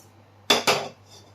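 Two quick metallic clanks in succession as a cooking pot is set down on a stove, then quiet.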